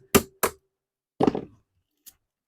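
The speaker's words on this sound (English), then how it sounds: "so you just persuade it with the hammer." Hammer blows on a chainsaw being stripped for scrap: two sharp close knocks, then a rattling cluster of strikes and a faint final tap, with quiet gaps between.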